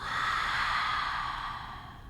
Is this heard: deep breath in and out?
yes